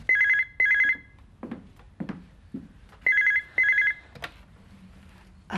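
An old-style telephone bell rings in two double bursts, loud and close, with short pauses and a few clicks and knocks between the rings.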